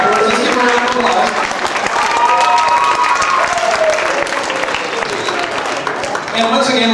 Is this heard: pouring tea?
no